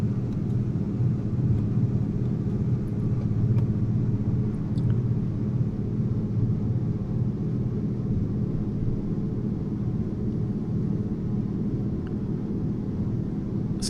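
Steady, loud low droning of a DHC-2 Beaver's radial engine and propeller in flight, heard from inside the cabin with flaps being lowered, the rumble continuous and unbroken with no voices.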